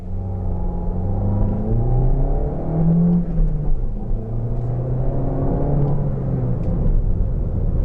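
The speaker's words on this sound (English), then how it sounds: "we're just going to take it from a dead stop" A 2019 Toyota Corolla Hatchback XSE with a manual transmission accelerates hard from a dead stop. The engine drone rises and falls through the gears as a steady, loud in-cabin roar, with no talking.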